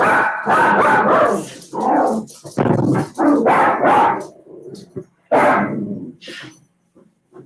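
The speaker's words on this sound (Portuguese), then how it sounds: "A mulher chega, os cachorros fazem a festa." Several dogs barking and yipping excitedly as a woman arrives home, loud bursts coming close together and overlapping, with a few whimpers and quieter gaps near the end.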